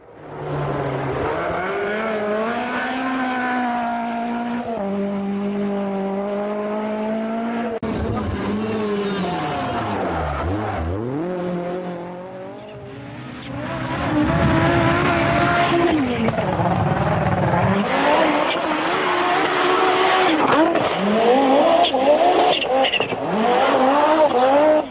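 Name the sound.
race car in Lotus black and gold livery driving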